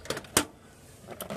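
Shutting the disk drive door on a computer gives a quiet mechanical click, then a sharper snap, then a couple of faint taps in a hushed room with no talking.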